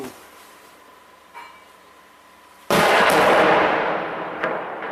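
Artillery or gunfire in a war zone between Russia and Ukraine, coming from two directions: a faint distant thump, then a sudden loud close blast with a long rumbling tail and a second shot near the end.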